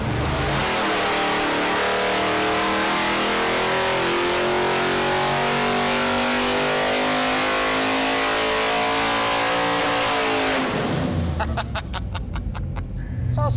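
A small-block V8 with a 100 hp nitrous plate kit roars at full load on an engine dyno, a loud sustained bellow climbing in pitch before cutting off abruptly into rattling idle pops.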